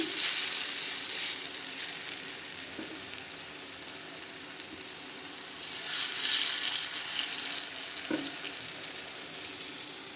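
Prawn-head fritters (bora) frying in oil give a loud, continuous close-up sizzle that briefly softens and then surges again partway through.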